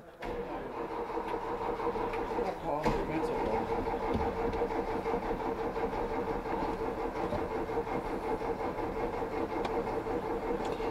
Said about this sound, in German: Das ist ein bisschen dauern, weil Vergaser leer ist.